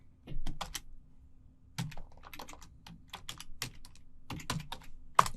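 Keys tapped on a computer keyboard while entering a password, a run of quick, irregular clicks in short bursts with brief pauses, close and fairly quiet, ending in a slightly sharper keystroke.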